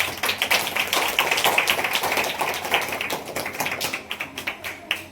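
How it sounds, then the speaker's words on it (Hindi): A congregation at a Sunday church worship and prayer service claps hands in a quick, dense patter of sharp slaps that gradually loosens and thins toward the end, heard mostly on its own. "थोड़ी एक बार ताली बजाओ आप लोग, सुस्त हो रहे हो।"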